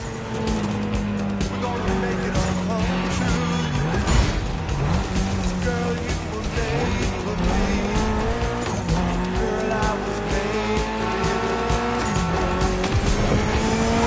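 Game engine audio of a Mitsubishi car with a 280-horsepower inline four-cylinder in The Crew Motorfest, a steady loud engine drone that rises and falls through gear changes, with some tire squeal and music-like tones layered over it, no speech.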